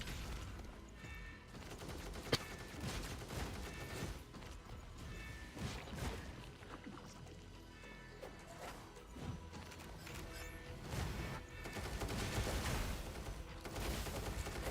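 Rapid, dense gunfire from the video game Punishing Gray Raven: a sustained barrage of overlapping shots and crashing impacts, loud and continuous throughout with no talking.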